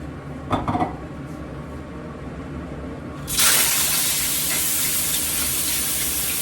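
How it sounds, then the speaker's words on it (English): Shrimp hitting a hot wok with about a tablespoon of avocado oil, for shrimp with lobster sauce, bursts into a loud, steady, close sizzle midway after a few faint kitchen clinks, then holds without talk. "You can see that shrimp as soon as it hit the wok. Steam came up and they are starting to cook."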